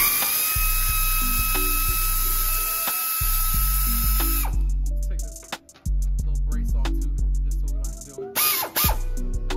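Power tool spinning exhaust nuts off a 9th-gen Honda Civic Si during a cat-back exhaust swap, several loud, close bursts of whirring with short stops between them.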